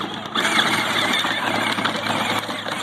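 A small ride-on tractor engine runs steadily up close, a continuous droning hum with a faint squeal, while children play around it outdoors.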